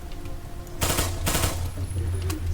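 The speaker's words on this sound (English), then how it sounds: "the M16 only has the single fire to burst" An M16A4 rifle in NMRIH fires two sharp, loud bursts close by, separated by a brief gap, with a quiet background hum before and after.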